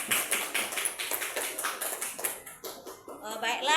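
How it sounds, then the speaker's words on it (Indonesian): A classroom group claps hands in a quick, uneven patter that fades toward the end, followed by a voice speaking. "Oke, tepuk tangan untuk kelompok 1 ada Ria."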